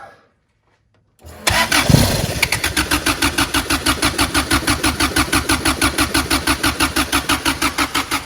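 A Toyota 22RE engine cranks from cold, catches after about a second and settles into a steady, rhythmic idle, loud and close with no talk over it.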